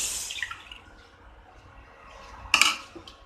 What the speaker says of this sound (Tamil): இதை கட்டி தட்டாமல் இதை நல்லா மிக்ஸ் பண்ணி விட்டுடலாம்